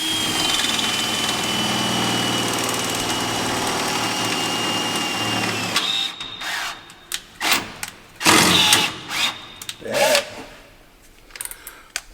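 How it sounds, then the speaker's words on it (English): A steady mechanical hum runs for several seconds, then a pneumatic rivet gun fires in a string of loud, harsh bursts of hammering, close by and with pauses between them. "Ryan is running the rivet gun."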